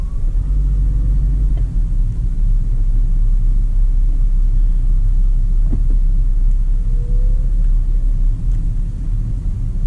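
A car moves off from a standstill and drives along a suburban street during a driving test route, its engine and road rumble steady and loud throughout with no talk.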